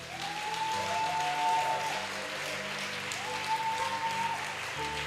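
A church congregation bursts into steady, loud applause and cheering for the Holy Spirit during a Pentecost service, with rising voices and organ-like tones sustained across the crowd.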